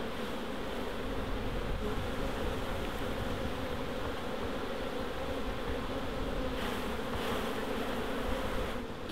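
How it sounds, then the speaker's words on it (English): Honeybees being shaken off a hive frame during a hive split produce a dense, continuous buzzing swarm drone, loud and close, with no pauses. "we're just going to get a frame and we're just going to shake the bees on top of here"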